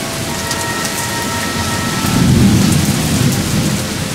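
Steady heavy rain patters down while a low rumble of thunder swells midway, then fades back into the downpour.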